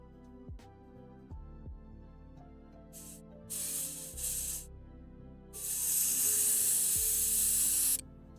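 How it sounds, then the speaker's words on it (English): An airbrush sprays isopropyl alcohol in loud hissing bursts, two short ones and then a longer sustained blast, close up over a faint background hum and occasional low thumps. "We're gonna put the isopropyl and shoot it through the airbrush."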